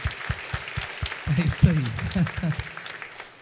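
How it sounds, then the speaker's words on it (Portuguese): A church congregation claps for their pastor on Pastor's Day, a run of evenly spaced claps at first, then someone talks loudly over fading clapping. "Aplaude a Jesus pela vida do seu pastor."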